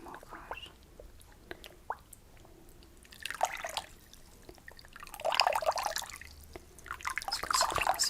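Water dripping and trickling as a cloth is soaked during a massage treatment, small wet drips and splashes scattered throughout, growing fuller and louder toward the end, close and quiet with no talk.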